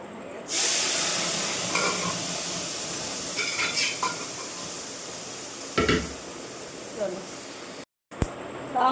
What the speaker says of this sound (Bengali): এখানে ডাল ফুটছে